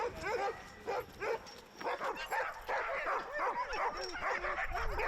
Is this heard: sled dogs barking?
yes